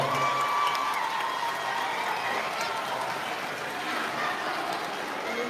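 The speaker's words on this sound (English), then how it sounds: "round of applause for the marching Wos now." Crowd applause for a high school marching band at a season kick-off event, a continuous even patter of clapping from many people with scattered distant voices and cheers underneath.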